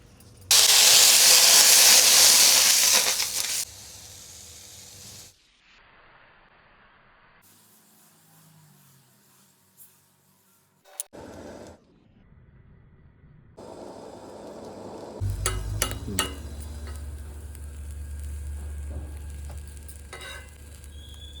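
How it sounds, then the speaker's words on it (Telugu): Oil is poured onto a hot, seasoned iron dosa pan and rubbed in. It bursts into a loud, close hissing sizzle that cuts off, then gives way to quieter scraping and a low, rumbling sizzle later on. "ఇప్పుడు ఆయిల్ వేసి నేను రబ్ చేస్తున్నాను"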